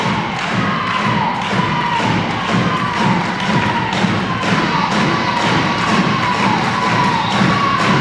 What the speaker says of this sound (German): Die Halle steht und klatscht.